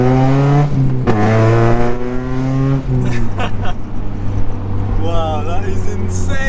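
Straight-piped Honda Civic EP3 Type R with an M2 Hornet exhaust revs hard and loud in close, steady harmonic bursts that rise and drop, while people talk excitedly over the engine.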